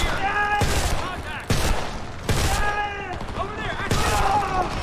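Heavy gunfire in the shooter game Homefront arrives in broad, loud bursts with brief gaps between them, while a voice talks over the combat.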